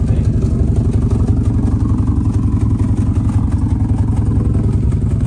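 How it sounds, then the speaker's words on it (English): A Subaru WRX engine idles with a misfire, a loud, close, uneven low-pitched chug with a stumbling, lumpy beat that runs steadily throughout. "Sounds like it might have a pretty good misfire."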